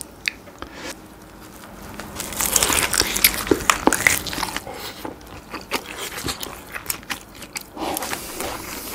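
Cheese-covered lobster with spicy red sauce and enoki mushrooms eaten up close, with irregular wet crunching, cracking and chewing bites that grow busier and louder partway through.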